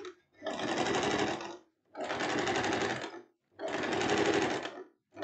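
A sewing machine runs a three-step zigzag stitch on a dress, in three steady, even bursts of rapid needle chatter, each lasting over a second and separated by brief pauses, heard close and alone.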